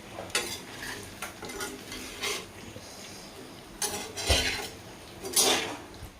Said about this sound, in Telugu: కరివేపాకే వేసుకొని మనం తిప్పుకోవాలి.